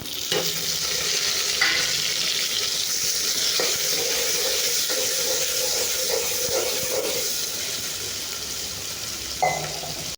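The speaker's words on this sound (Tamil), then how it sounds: "இப்போ வெங்காயம் வதங்கிடுச்சு நம்ம ரெண்டு தக்காளியும் சேர்த்துக்கலாம்" Onion, chillies and tomatoes sauté in a pan with a steady, close sizzle and hiss that runs the whole time, broken by a few scraping stirs.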